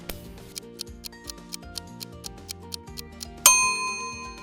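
A mechanical oven timer ticks at a steady pace for a few seconds, then a single bright ding rings out and lingers.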